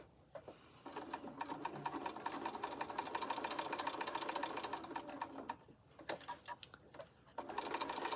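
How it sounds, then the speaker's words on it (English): Domestic sewing machine stitching a quilted Valentine mug rug, a steady close mechanical whir with fast needle ticking that runs for several seconds, pauses briefly, then resumes in short clattering bursts. "I've just stitched right down to that point"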